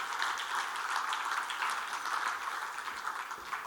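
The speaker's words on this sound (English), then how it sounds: "Big applause to hear about his views." An audience at a finance talk on private market investing claps to welcome a guest speaker, a sustained even patter of many hands, moderately loud, with no voices over it.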